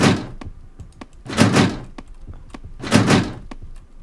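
A locked door in the video game Moly Bong Bonkus gives two loud rattling thuds a second and a half apart, with sharp clicks and knocks scattered between them.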